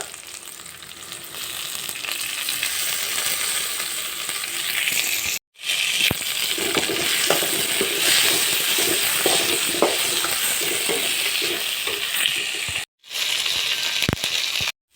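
Curry leaves and mint sizzle hard in a pan for a kathamba chutney, a loud continuous crackling hiss with brief cuts near the middle and end and small pops throughout.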